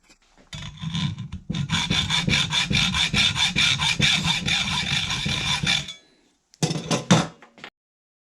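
Wood is sawn or filed by hand in quick, rhythmic rasping strokes, close and loud, for about five seconds. After a pause a short second burst follows.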